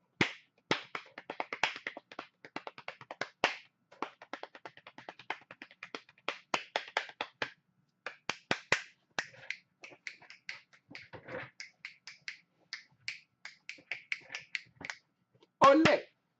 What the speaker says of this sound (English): You just hit whatever body parts make good drum noises and do a little beat.